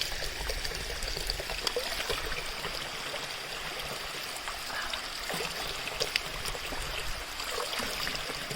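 Cold mountain spring water running straight from a pipe on a hillside in Munnar: a soft, continuous trickling pour with faint splashes, fairly quiet and steady, with no talking.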